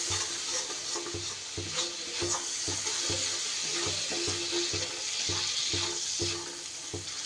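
Spice paste for a vegetarian Malabar spinach labra sautés on low gas with a little added water, a soft continuous sizzle carrying a regular series of dull knocks and scrapes from stirring.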